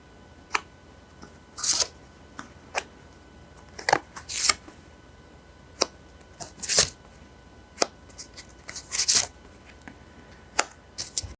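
Tarot cards shuffled and drawn in a quiet room, a series of crisp, separate snaps and riffles spaced a second or two apart, close and clear against near silence.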